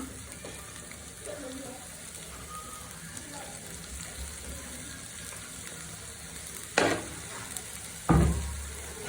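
Chopped garlic and onion give a low, soft sizzle in hot oil in a kadai, with two sharp metallic clanks near the end and quiet voices in the background.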